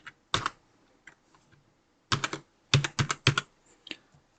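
Keystrokes on a computer keyboard while filling in an online entrance exam form: a short burst, a pause, then two quick clusters of sharp clicks close to the microphone, with no speech.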